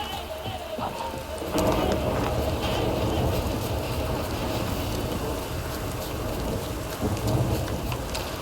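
Heavy rain pours steadily in The Witcher 3 video game, a dense broadband wash with low thunder rumbling beneath, getting louder after the first second or so; a voice speaks briefly over the downpour.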